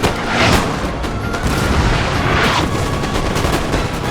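Howitzer and musket fire in Napoleon Total War, a British versus Austrian battle, roars as a dense, continuous crackle of gunshots and booms, with distant volleys overlapping.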